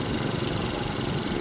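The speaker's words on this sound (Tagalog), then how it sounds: "Baka yung motor nakakadaan." A motorcycle engine runs steadily at close range on a street in Manila, a continuous broadband drone with no clear rise or fall as it goes by, and no talk over it.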